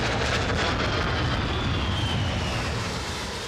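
Military jets recover aboard the aircraft carrier HMS Illustrious, a loud, steady roar of jet engines filling the whole stretch with a broad rushing drone.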